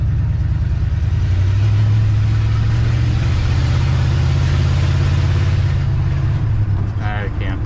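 A truck with a 700R4 transmission swapped in for a TH350 runs in third gear, giving a loud, steady low engine drone that rises and holds under a brief voice near the end.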